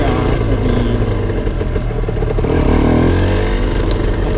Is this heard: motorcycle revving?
yes